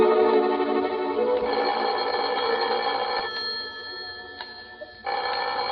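An old telephone bell rings in a warden's office, a loud sustained electric ring that breaks briefly, dips in level, then resumes near the end, with no one speaking.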